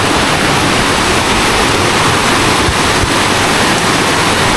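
A river rushes past a village hidden in the forest, a waterway once struck by a flash flood. Its steady, dense roar of flowing water fills the scene continuously and close by, with no voices.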